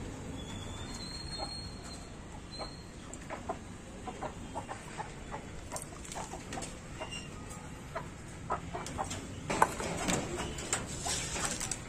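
Chickens being fed rice and green leaves cluck and chatter outdoors, a scattered run of short calls near and far with occasional louder squawks over a faint background.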